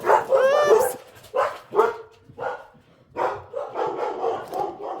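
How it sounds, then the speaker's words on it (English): Guard dogs bark in a sewing room, a series of close, loud barks and yips in irregular bursts with short gaps between them. "They're my guard dogs. They heard something."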